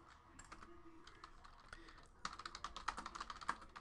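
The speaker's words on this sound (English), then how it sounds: "Now, let's type in the hits." Typing on a computer keyboard, a light scattered tapping that turns into a quicker, denser run of key clicks, close and faint.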